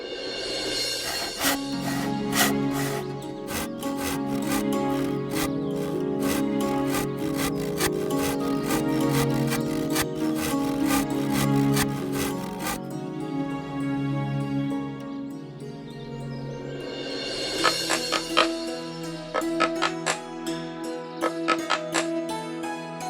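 A hand saw rasps through wood in steady repeated back-and-forth strokes, close and loud, pausing briefly before resuming with a quicker rhythm; no one speaks.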